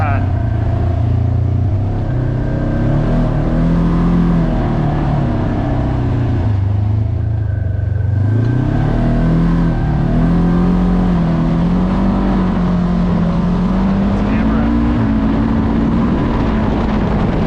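A Polaris RZR 570 Trail side-by-side drones steadily as it rides a narrow 50-inch woodland trail, the engine pitch dipping and rising with throttle changes, loud and continuous throughout.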